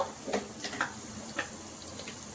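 Peanuts and chana dal fry in oil in a pan while making mango pulihora rice, giving a faint, steady sizzle broken by small scattered pops and ticks, with no talking.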